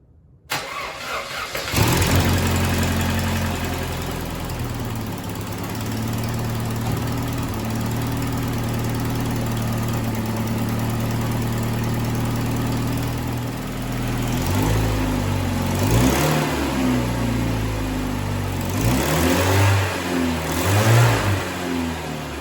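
A 1994 Saturn SC2 engine, due for a head gasket replacement, starts with a sudden catch and settles into a steady running rumble, then revs up a few times near the end.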